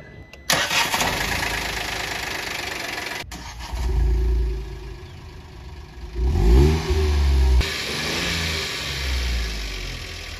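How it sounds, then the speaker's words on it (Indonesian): A Citroën C3 engine starting and running with a noisy, rough, diesel-like clatter, close and loud, with a couple of revs rising over a steady idle. "Dan mobil ini tuh mesinnya berisik dan kasar."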